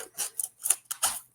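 A sharp knife snips through zip ties holding a collectible mini bust inside its packaging. Five or six crisp clipping cuts come in quick, uneven succession, close and fairly faint.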